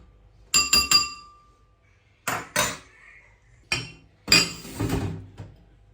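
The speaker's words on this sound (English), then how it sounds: "So with my spoon, I'll be giving it a good mix." A spoon clinks against a bowl while salt is mixed into suya spice, a few sharp metallic taps followed by scraping stirs, close and fairly quiet with pauses in between.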